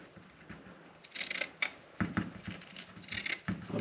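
Scissors snip small pieces of fiberglass cloth up close, several quick crisp cuts in an uneven rhythm with soft rustling of the fabric between them.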